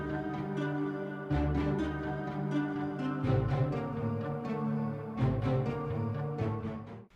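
Arturia Augmented Strings synth strings on the Impetuous preset, layered under the main melody of a produced beat; sustained string chords swell and shift in steady sections with drums and bass throughout, no voices.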